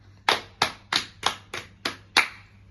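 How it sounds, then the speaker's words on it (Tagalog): An audience claps seven times in unison for a children's performance, sharp evenly spaced claps about a third of a second apart, each ringing briefly in the room, with no voices. "Bigyan natin ang mga bata ng 7 palakpak sa kanilang napakagandang performance."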